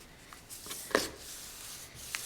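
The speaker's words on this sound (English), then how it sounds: "take that bone folder and make sure everything's creased down really good" A bone folder rubs along the folds of a paper composition notebook being altered, giving soft, quiet scraping strokes with a couple of brief sharper swipes and no talk.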